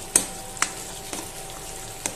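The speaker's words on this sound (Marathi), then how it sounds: "त्यामध्ये आता आपण हे वाटलेला जो आपला मसाला आहे तो व्यवस्थित आपण यात तेल सुटेपर्यंत परतून घ्यायचा आहे।" A ground masala paste fries in oil in a pan, giving a faint low sizzle broken by a few sharp stirring clicks spaced roughly half a second apart.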